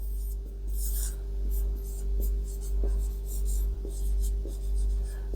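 Marker or chalk writing on a board during a maths lesson on complex numbers, soft repeated scratchy strokes in short bursts over a constant low hum, close by.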